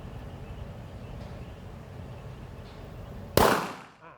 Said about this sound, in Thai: ถ้าพร้อมแล้วน้องแบงค์ก็ลั่นไกลได้เลยครับ